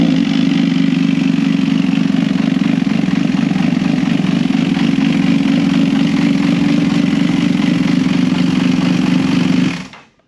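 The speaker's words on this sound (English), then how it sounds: "we're gonna show you what it sounds like whenever you first start this thing up and how rough it idles" A Kawasaki Ninja H2 SX motorcycle fitted with a PentaCarbon install runs at a rough, lumpy idle just after starting, its engine note loud and steady for about ten seconds before cutting off abruptly.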